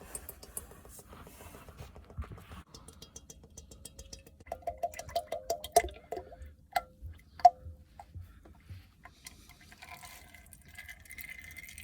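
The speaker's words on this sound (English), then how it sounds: "And we're just gonna let it drain for a while." Gear oil draining from the differential of a 2014 Kia Sportage 2.0 CRDI, a quiet trickle with irregular ticking drips and splashes into a catch container, louder in the middle then tapering off.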